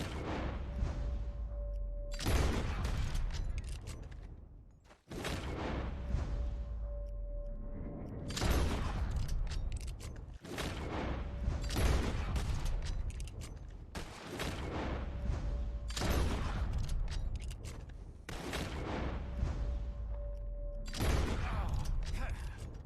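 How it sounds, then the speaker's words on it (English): Gunfire from a shooting contest in the video game Red Dead Redemption 2: loud, broadband shots and bursts recur every few seconds over a steady game background with a faint held tone. "As soon as you see them, start shooting."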